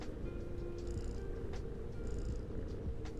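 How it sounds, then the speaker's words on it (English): A recorded cat purr plays on a loop as a continuous, close, low rumbling drone with a regular breathing rhythm, uninterrupted and with no voices. "Cat purring."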